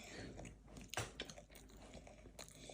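A child chews chicken at a meal, with soft, close, irregular biting and crunching sounds repeating at a low level.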